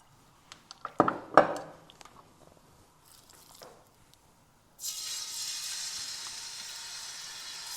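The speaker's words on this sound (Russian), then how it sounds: "и будем обжаривать мясо" Pork hitting hot unscented sunflower oil in a pan, a few clattering knocks and thumps followed by a sudden, steady, loud hiss of frying that continues to the end.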